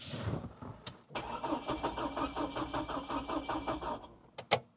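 A Hummer H3's starter cranks the engine in a fast, even, chugging rhythm for about three seconds without catching, then stops, followed by a couple of sharp clicks.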